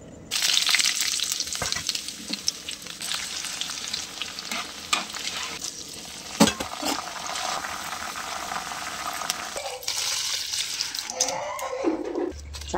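Groundnut oil poured over red chilli pickle and stirred through it, a steady wet sizzling hiss with scraping and mixing noises running continuously, close and fairly loud.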